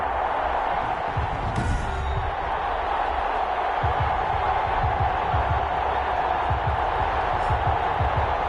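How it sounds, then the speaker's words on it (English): Stadium crowd roaring steadily before an NFL game between the Detroit Lions and the home team, a dense continuous wash of cheering with a commentator talking over it. "This crowd is ready as their guys get set to match up between the Detroit Lions and our home team."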